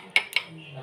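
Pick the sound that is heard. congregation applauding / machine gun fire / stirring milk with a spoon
stirring milk with a spoon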